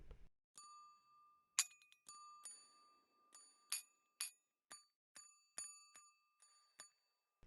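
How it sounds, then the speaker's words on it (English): A desk bell from a Kontakt Player sample instrument rings about a dozen times in sequence. Each strike is a clear, bright ding with a short decay, played at an uneven pace and heard alone. "This is the out of the box desk bell sound."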